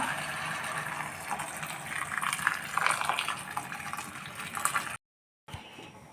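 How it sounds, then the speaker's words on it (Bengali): Freshly boiled water is poured into a cooking pot for vegetable khichuri, a soft, continuous splashing gush heard fairly quietly, cut off briefly by a moment of silence near the end. "পানি ফুটানো হয়ে গেছে, এখন পানি দিয়ে দিব।"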